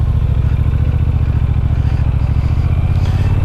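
A 2018 Triumph Bonneville T120 motorcycle engine pulls hard under throttle, a loud, steady low-pitched thrum with rapid firing pulses that holds close and constant, slightly shifting pitch toward the end.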